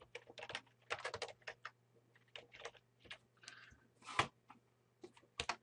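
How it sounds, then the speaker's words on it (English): Bursts of key clicks from a computer keyboard, typing in short irregular runs with pauses between, close and fairly faint, with no voices. "and then I type in"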